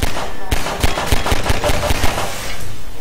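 Gunfire in the video game Half-Life 2, heard as a burst of sharp, loud shots in rapid irregular succession over about two seconds, with no talk during the shots.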